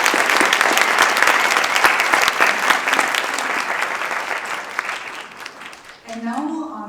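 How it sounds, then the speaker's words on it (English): Sustained applause from a graduation ceremony audience for honors graduates, dense clapping filling the hall for about six seconds before fading out, with a voice beginning to speak over the tail. "One more round of applause for our graduates."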